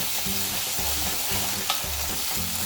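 A steady sizzle from a frying pan as a tomato, ginger, green chilli and garlic paste cooks with browned onions, rhythmic stirring scrapes repeating about every half second, close and moderately quiet.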